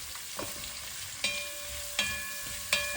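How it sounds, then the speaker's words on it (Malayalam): Long-sliced onions sautéing with ginger and garlic in a pan for mutton stew, a steady soft sizzle broken by a few sharp stirring scrapes, close and moderately quiet with no talking. "ഞാനൊരു 2 സവാള നീളത്തിലരിഞ്ഞാണ് ഇട്ട് കൊടുക്കുന്നത്. അതും ഒന്ന് വഴറ്റിയെടുക്കാം."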